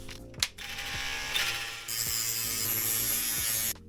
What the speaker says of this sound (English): I'm going to grind that off, or sand it off, just the part that's mushroomed